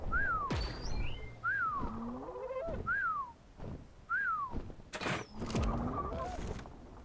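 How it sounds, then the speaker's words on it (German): A high whistling tone repeats again and again in Ark: Survival Evolved, each short descending whistle recurring about once a second amid game sounds and bird-like calls, with brief bursts of other effects between. "Und dieses Pfeifen geht mir auf den Keks."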